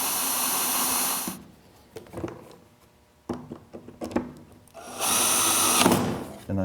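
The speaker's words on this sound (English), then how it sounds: "I'm going to drill a hole in right there for a screw, but I'm going to countersink it" A power drill bores a countersunk screw hole in wood while a box is being built, with a loud whirring burst at the start and another near the end, and quieter clicks and handling noises in between.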